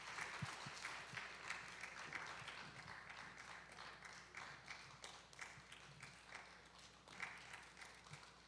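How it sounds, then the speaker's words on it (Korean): A church congregation at its 40th anniversary talk concert applauds during a gift presentation, a faint, distant, sustained clatter of many hands with individual claps popping out over several seconds. "박수 좀 주세요."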